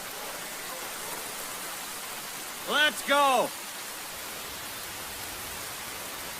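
Steady, even rain hiss fills the whole stretch at moderate loudness, with a short shouted voice briefly cutting in near the middle.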